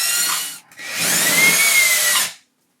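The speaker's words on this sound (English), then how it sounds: "I'm drilling the hole." A power drill with a 5/16 bit whines loudly and close, drilling a hole in a wall, with a brief pause before a longer steady burst that winds down and stops.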